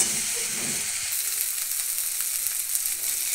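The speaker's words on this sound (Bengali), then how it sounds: "তারপর আদা রসুন পেস্টটা একটু ফ্রাই করে নিচ্ছি।" Ginger garlic paste fries in hot oil over already browned onions, giving a steady, close bright sizzle with a brief stir near the start and no voices.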